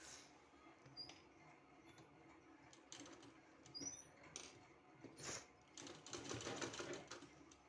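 A sewing machine stitching palazzo pant fabric runs in short, close bursts of rapid mechanical whirring, stopping and starting between passes.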